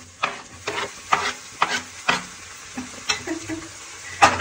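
Browned onions with garlic and tomato fry in a pan as a spatula scrapes and stirs in regular strokes about every half second, each stroke a short rasping burst over a soft sizzle, close by.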